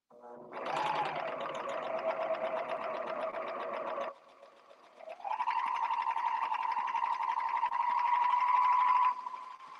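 A serger sewing machine stitches fabric in two steady runs, each a few seconds long, with a short pause between them. The motor hums loud and close, with a fast, even needle chatter and no talk.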